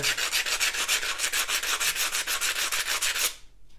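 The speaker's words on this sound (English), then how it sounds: "you can sand this down to make it even smoother" An enamel pin being sanded smooth with a nail file or sandpaper, making a close, loud, rhythmic rasping of quick back-and-forth strokes that stops abruptly near the end.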